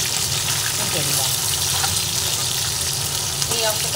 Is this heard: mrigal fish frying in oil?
yes